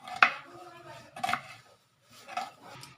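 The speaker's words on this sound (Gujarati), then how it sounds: "તો આપણે આ ડુંગળીને કાપી લઈશું" Two small onions being cut with a knife while cooking tuver totha, a pigeon-pea dish: three sharp, separate chops spaced about a second apart, close and fairly quiet, with no talk.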